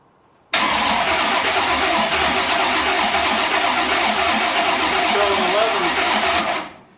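A big block engine cranking on a battery jumper, a loud, steady, continuous starter whir close by for about six seconds before stopping, without catching.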